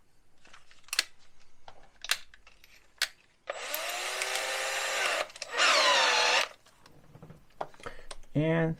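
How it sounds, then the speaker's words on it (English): Power drill boring into a soft aluminum Jaguar XK engine cylinder head, oiled holes, two sustained whining bursts of drilling close up, separated by brief pauses, with a few sharp clicks and handling knocks around them. "it's just a matter of slowly starting to drill into the head."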